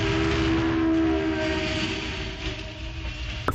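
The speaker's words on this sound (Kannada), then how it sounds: "ಈ ಟ್ರೈನ್ ಹೋಯ್ತಲ್ಲ ಇದೇ ಆ ನೈಟ್ ಶಾಟ್" A train rolls past at night near a film shooting location, a loud sustained rumble with steady tonal hum that slowly eases as it moves on, with no voices.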